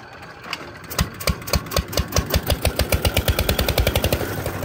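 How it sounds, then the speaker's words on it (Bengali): A country boat engine on the Brahmaputra river cranks and catches, building into a rapid, loud, close chugging rhythm of evenly spaced thumps that quickens and settles into a steady run. "এখন নৌকা আবার স্টার্ট দিতেছে"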